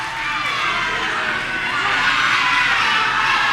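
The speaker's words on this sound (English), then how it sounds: "the crowd is losing their freaking minds over here" A wrestling crowd at a live 4-way tag-team championship match roars wildly, a dense, loud, unbroken wall of cheering and shouting that swells slightly toward the end.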